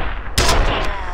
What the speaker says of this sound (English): Help me! I'm taking fire!